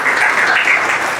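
Church congregation applauding during a Spanish-language sermon on the shield of faith, a steady, dense wash of clapping that fills the whole moment without a break.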